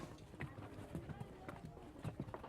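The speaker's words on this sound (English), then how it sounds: "The streets bustle with donkey traffic." Donkey hooves clip-clop along narrow, car-free town streets in Lamu, a steady irregular patter of hoofbeats at moderate distance under a low background murmur.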